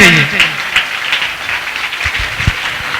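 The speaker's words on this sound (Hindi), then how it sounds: "मैं चाहूंगा आपसे जोरदार तालियों से स्वागत कीजिए" An audience at a school poet gathering claps loudly to welcome the chairman. The applause is dense and close, and voices and shouts mix through it.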